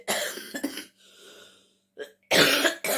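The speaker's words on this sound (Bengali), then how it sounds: "প্রচণ্ড কাশি হয়েছে" A person with a severe cough coughs in several harsh, close bursts, with a quieter breathy pause between them, on a cold morning.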